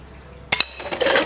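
A 3D printed ZASA crossbow bolt bursts apart on impact near a dish, one sharp, bright crack with a clinking, glassy ring, followed by scattered rattling and tinkling debris, loud and close.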